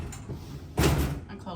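A balcony door in a Mariner of the Seas stateroom slides and bumps shut with one solid thud, close and fairly loud, with someone talking just before and after.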